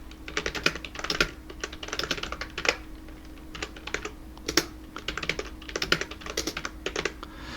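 Steady rapid clatter of fingers typing on a computer keyboard, close and fairly quiet, in uneven bursts of keystrokes with short pauses and occasional louder key hits, no voices.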